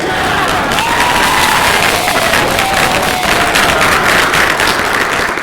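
A panel audience at PAX Unplugged 2022 bursts into dense, sustained applause, a loud steady wash of clapping from a big crowd mixed with some cheering.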